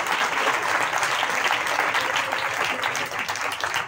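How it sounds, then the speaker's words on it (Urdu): Dense, steady applause from a large audience at an Urdu-language church sermon, many hands clapping together for the full four seconds with no gaps and no speech over it. "اگر درست ہے تو آپ ہاتھ کھڑا کریں اور تالی بھی بجا دیں تاکہ مجھے پتا چلے کہ صحیح ہے۔"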